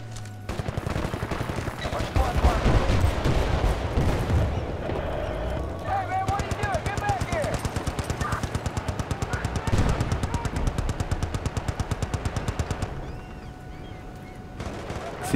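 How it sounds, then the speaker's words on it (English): Sustained rapid gunfire in the video game Battlefield: Bad Company 2, rattling machine-gun bursts and individual shots filling the whole stretch at steady loudness, with players talking over the action. "See a lot of shooting but no contact."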